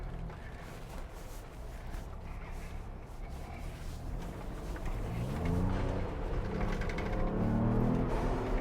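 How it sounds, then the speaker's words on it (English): A 2021 Ford Bronco crawls off-road, its engine rumbling steadily, then building with rising revs as the turbo spools up close by. "You can hear the turbo just oh man, it's just so good."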